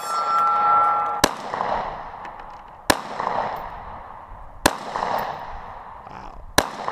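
Four loud, sharp gunshots firing Tula ammunition ring out at roughly even intervals of about one and a half seconds, each crack followed by a short echoing decay, with no talking between them.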